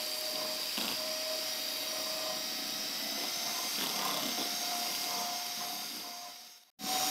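An electric hand mixer beats cake batter at medium speed, a steady continuous whirring drone that holds near and even for several seconds before cutting out briefly near the end.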